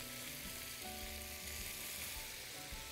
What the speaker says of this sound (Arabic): شوحهم هنا، وبعدين هنزلهم على البصل.